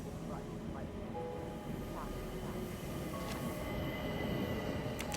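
A train on the Orient Express rumbles steadily, with a low continuous roar and faint metallic squeals throughout, heard from inside or very near the train.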